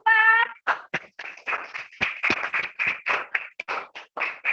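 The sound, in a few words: classroom applause for group 4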